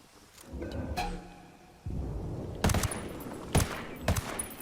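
MK-17 rifle fire in the video game Ghost Recon Wildlands, several loud, sharp shots in an uneven sequence amid rumbling bursts of battle noise, each crack distinct and close.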